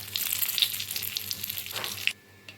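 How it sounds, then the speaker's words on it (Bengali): Dried red chillies, whole cumin and bay leaves hit hot oil for a Bengali echor (jackfruit) chicken tempering, giving a loud, close, continuous hissing sizzle that suddenly dies down near the end. "তেল গরম হয়ে গিয়েছে, এখন এর মধ্যে আমি দিয়ে দিচ্ছি ফোড়নের জন্য শুকনো লঙ্কা, গোটা জিরে আর তেজপাতা।"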